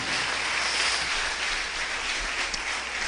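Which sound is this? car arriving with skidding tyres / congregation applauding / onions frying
congregation applauding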